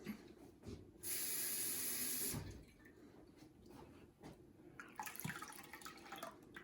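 A loud rush of pouring water runs for about a second and a half, followed by quieter kitchen clatter and faint splashing.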